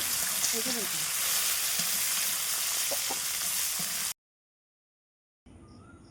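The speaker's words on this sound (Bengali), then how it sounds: "ছোলাটা দেওয়ার পর একটু নাড়াচাড়া করে নেব।" Raw soaked chickpeas frying in hot oil in a pan, a steady close sizzle with scattered stirring scrapes and clinks, then a brief cut to silence before the frying resumes.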